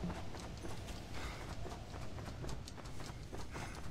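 Horse hooves clip-clop steadily in the Red Dead Redemption: Undead Nightmare video game, a quiet, even trotting rhythm with no talk over it.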